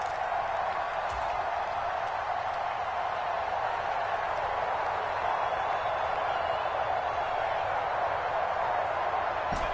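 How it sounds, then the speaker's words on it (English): A stadium crowd at an American football game roars steadily as a distant, broad wash of cheering that holds constant throughout, with no clear talk over it. "This crowd doing all they can."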